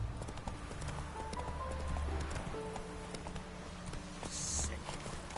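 Roach, the horse in The Witcher 3, clip-clops in a steady rhythmic trot of hoofbeats under faint game ambience. A brief neigh-like sound comes near the end.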